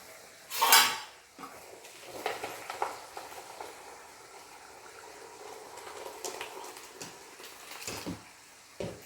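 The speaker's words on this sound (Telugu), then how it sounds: "దీన్ని ఒక గిన్నెలోకి మార్చుకుందాం." Cooked rice is moved into a bowl with a loud metallic clank of pot against bowl near the start, followed by softer scraping, tapping and knocks of utensils and a final clatter.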